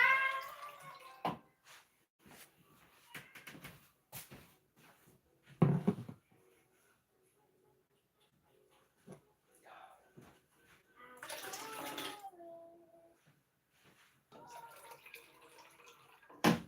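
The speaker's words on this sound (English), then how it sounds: "I might just empty some out and just add some cold." A tap runs while a bath is filled and topped up with cold water, the flow starting and stopping in bursts with knocks and splashes, under and between a person talking nearby.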